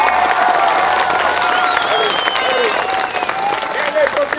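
A theatre audience at a Víťa Marčík Bajaja puppet show breaks into dense, sustained applause, loud and continuous, with whistles and calls over the clapping.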